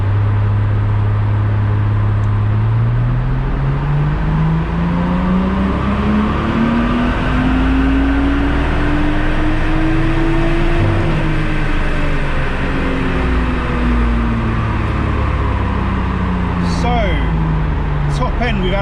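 A Nissan Skyline engine revs steadily upward in pitch under heavy load on a dyno, peaks, then winds back down, a loud continuous roar with a sharp clank near the end.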